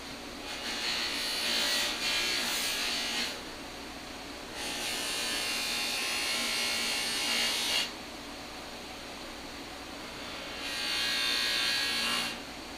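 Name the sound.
polishing car trim with coarse rubbing compound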